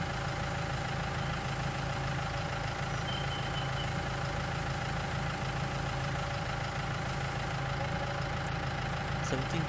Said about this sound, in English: This tractor's not got much power